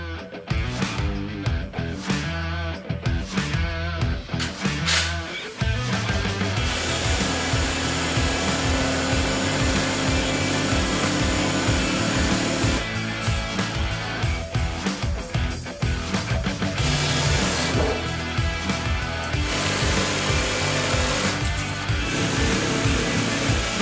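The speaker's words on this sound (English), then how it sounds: "I'm going to be using my jigsaw here with a smooth blade that's used for cutting wood" A jigsaw fitted with a smooth wood-cutting blade slices through foam for a Halloween tombstone, giving a loud, steady motor whine with a buzzing, reciprocating texture that runs almost continuously with brief pauses near the start.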